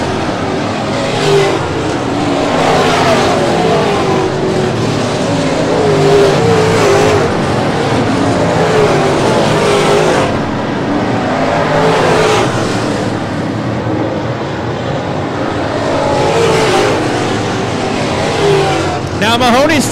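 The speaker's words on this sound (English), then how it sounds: "To go, four to go as Mahoney still works lap traffic." Pro late model race cars roar around a speedway oval in a feature race, engines droning loudly and continuously with passing surges, under steady race announcer commentary.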